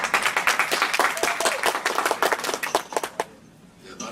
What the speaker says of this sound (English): appreciate everyone keeping the applause down